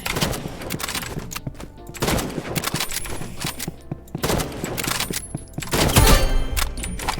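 Rapid gunfire from a Roblox Rivals match crackles in dense bursts of shots, loud and continuous, with occasional high game tones layered over the barrage.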